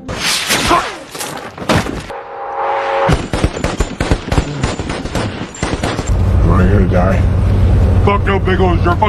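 Gunfire in a war film about American and Iraqi snipers: loud, close bursts of sharp shots and rapid cracks, mixed with rumbling film sound effects and a possible voice.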